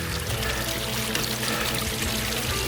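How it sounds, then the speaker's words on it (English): Water pours steadily into a bottle from a mountain stream during a summit scramble, a continuous close splashing fill with no pauses and no voices. "This is how I fill up my water in the mountains with my aqua tabs."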